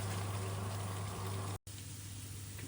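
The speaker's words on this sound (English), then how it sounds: "that lovely sizzling is going on" Chicken shawarma sizzling on a hot tray, a steady close hiss of frying juices with a low hum beneath, briefly cut off for a moment before resuming.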